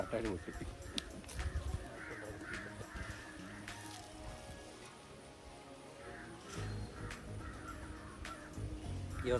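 Crows caw several times outdoors around a home, the calls mid-distance and moderately loud, mixed with background voices and household noise.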